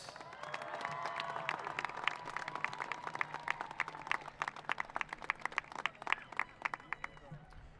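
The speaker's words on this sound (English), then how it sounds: "a round of applause for our vocalists" Applause for the vocalists at a graduation ceremony, a dense wash of clapping that thins into scattered sharper claps toward the end, with a low hum underneath.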